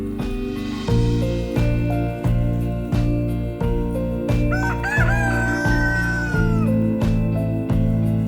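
A chicken or rooster crows in a wavering, drawn-out call over loud rhythmic music with a steady thumping beat, and the bird sounds partly masked by the music.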